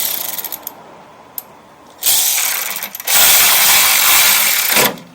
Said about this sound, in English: Mine on my ratchet is 35 foot-pounds.